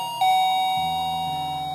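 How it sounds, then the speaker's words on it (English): A doorbell rings once with a clear ding-dong chime, two sustained bell tones in succession, close and loud with no talking. "The doorbell rings again"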